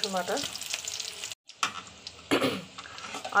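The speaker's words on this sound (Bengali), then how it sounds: "রসুনটাকে একটু ভাজা ভাজা করে নিতে হবে।" Ginger garlic paste frying with onions in oil, a close crackling sizzle broken by a brief silent gap and a few stirring bursts.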